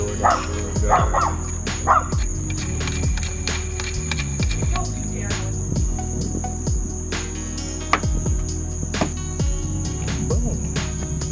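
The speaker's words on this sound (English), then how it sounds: "My dog's over here barking at the door." A dog barks repeatedly at a door, with sharp, fairly loud barks coming in irregular bursts over a steady background hum.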